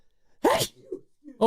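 A sharp, loud human sneeze bursts out alone at the start of a live sports radio show, followed by a short exclamation from a voice and brief talk.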